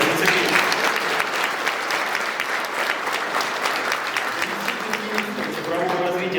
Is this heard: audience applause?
yes